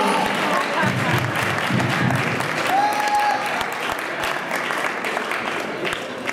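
Sustained applause and cheering from a large crowd at a live gospel hip-hop concert, steady and loud throughout, with dense clapping and whoops blending into a continuous roar.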